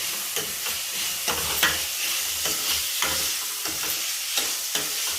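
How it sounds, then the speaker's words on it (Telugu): Vegetables frying in oil with turmeric, cooked without onion or garlic, hiss and sizzle steadily while a spoon stirs them, giving regular scraping knocks against the pan. "ఇట్లా ఊరికే కలుపుతూ ఉండాలి."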